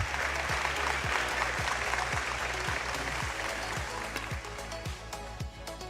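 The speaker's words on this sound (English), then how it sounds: "Give yourselves a round of applause." A crowd gives a round of applause at a science and engineering fair award ceremony, a dense, steady clapping that runs throughout with regular soft low thumps underneath.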